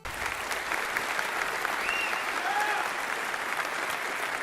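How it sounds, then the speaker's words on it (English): A crowd applauds steadily, a dense wash of many hands clapping at moderate, even loudness, with a few faint whistles rising above it. "I'm wondering why so many people clap."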